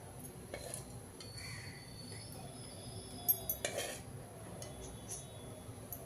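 A kadai set on the stove with oil spooned in, giving a few faint metallic clinks and a soft clatter of utensils in a quiet kitchen, with one brief louder cluster of knocks midway.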